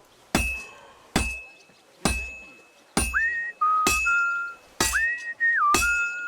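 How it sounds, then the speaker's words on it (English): Whistled melody from Kingdom Come: Deliverance II, sustained and sliding tones, played over sharp metallic hammer-like clinks that strike at a regular pace, the notes entering midway after several isolated strikes. "There's a new whistling song."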